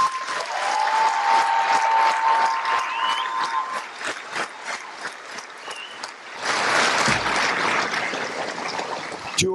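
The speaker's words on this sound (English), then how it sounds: "I would like you to give a round of applause to this dedicated team of professionals." Crowd applause at an Air Force training squadron coin ceremony, a dense, steady clatter of many hands heard from a distance, swelling again toward the end.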